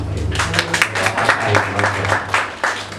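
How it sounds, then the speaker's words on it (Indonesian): A church congregation applauds, a dense burst of clapping that rises and falls in waves for a few seconds, close and fairly loud with no talk over it. "Tepuk tangan."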